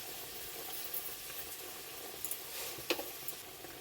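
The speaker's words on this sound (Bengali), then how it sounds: "এবারে ভালো করে কষিয়ে নেব।" Fish curry with salt, turmeric and a pinch of sugar sautés in a pan with a soft, steady sizzle, broken by a few light scraping stirs.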